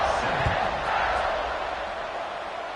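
A football stadium crowd waits before kickoff in a broad, sustained roar of many voices, with shouts rising early and the mass cheering holding steady before easing slightly.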